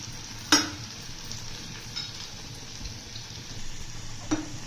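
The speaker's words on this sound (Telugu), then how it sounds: "ఇలా వేగిన తర్వాత క్యాప్సికమ్ వేసేయాలండి" Capsicum stir-frying in a pan gives a steady close sizzle, with a few sharp scrapes and knocks of a spatula against the pan and no talking.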